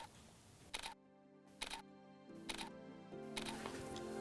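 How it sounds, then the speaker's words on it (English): A single-lens reflex camera fires a bracketed run of exposures, four or five distinct shutter clicks spaced roughly a second apart, each a sharp near snap over a quiet low background hum, with no talking. "I'm gonna run a bracket of 5 shots from my base exposure and go 2 stops down and 2 stops up."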